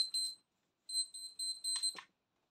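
A digital display lamp's alarm rings in a home, a short burst of high electronic beeps, then a pause and a longer run of repeated beeps, close and clear against silence.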